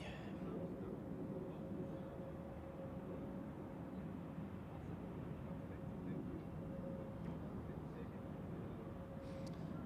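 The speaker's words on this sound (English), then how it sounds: "Embraer here coming in from London City." An Embraer jet airliner coming in from London City makes a faint, steady, broad rumble with a thin whine, heard at a distance at Zurich Airport in crosswinds.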